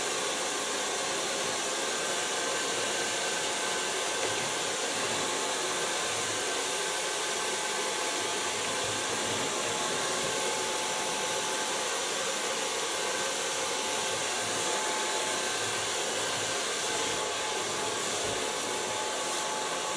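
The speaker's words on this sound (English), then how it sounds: "you can feel how hot the blow dryer is" A hair blow dryer runs steadily throughout, a loud continuous whooshing hiss of motor and airflow that never pauses, used while blow drying a short pixie haircut.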